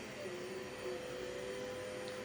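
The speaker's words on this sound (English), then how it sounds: "Sorry, there's some vacuuming going on outside" A vacuum cleaner runs steadily somewhere outside, a continuous droning whine with a sustained tone that holds level and fairly loud for the whole stretch, without any talking over it.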